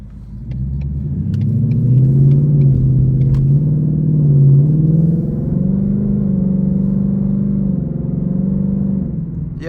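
A tuned 2023 Ford Mustang GT V8 accelerating hard, with a deep, loud rumbling engine note that climbs and dips through gear changes over about ten seconds, heard from inside the car without talking.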